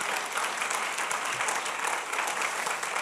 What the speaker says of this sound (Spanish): Dale un aplauso al Señor por eso.